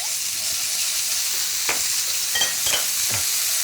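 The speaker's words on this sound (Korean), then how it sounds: "그다음에 이제 고기 볶을게요" Thinly sliced meat stir-fried in a pan for Korean japchae, a steady close sizzle with soft scraping stirs against the pan, no talking.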